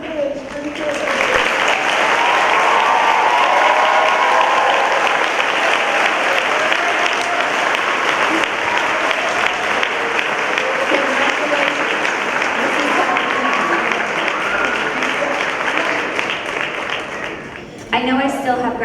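A high school senior awards ceremony audience applauds loudly and steadily for nearly twenty seconds, a dense, even roar of many hands that fades slightly at the end.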